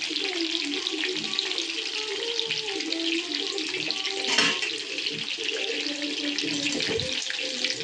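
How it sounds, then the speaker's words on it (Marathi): Chicken lollipops deep frying in hot oil give a steady, dense crackling sizzle that runs the whole time, close and fairly loud, with a brief louder burst partway through and no talking. "मस्त आपले लॉलीपॉप फ्राय होत आहेत."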